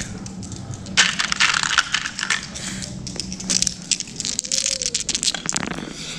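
Dice rattle and clatter across a table during a Marvel Crisis Protocol tabletop miniatures game, a burst of small sharp hard clicks and tumbling taps lasting a few seconds, close and moderately quiet, with faint voices in the background.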